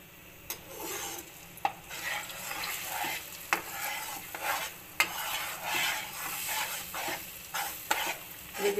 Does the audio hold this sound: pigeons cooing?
no